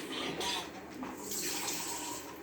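Water running from a kitchen tap into a cup while preparing brownie mix, a steady close splashing hiss that shifts slightly in tone as it fills, with a brief voice in the background.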